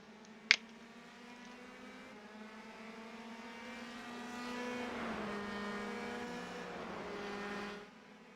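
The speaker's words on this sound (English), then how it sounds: "So waiting on a couple more cars to come across the finish line." Race cars in a racing video game cross the finish line at The Glen, a faint engine drone that swells as cars approach and pass before cutting off, with a sharp click near the start.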